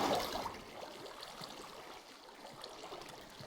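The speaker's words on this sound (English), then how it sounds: "Water." Flowing water in the Minecraft video game, a soft steady trickling stream that stays faint and continuous throughout, with no talking.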